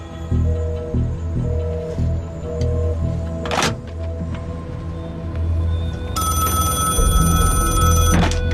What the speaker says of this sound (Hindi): सर, वही दानियाल खान का फोन है।